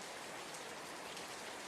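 Steady rain falling through a forest, a dense even hiss with no breaks or swells, continuous throughout and moderately loud.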